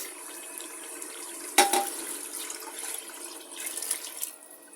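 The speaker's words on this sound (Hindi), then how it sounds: "अब मैं इसमें इतना पानी डालूँगी जिसमें हमारा मटन भी अच्छे से गल जाए" Water splashes and runs steadily into a pressure cooker of mutton after a sudden start, a continuous pouring sound that fades toward the end.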